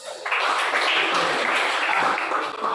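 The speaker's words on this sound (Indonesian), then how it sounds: "Coba kita berikan aplaus." Classroom of students applauding together, a dense sustained burst of many hands clapping that fills the room for a few seconds before tapering at the end.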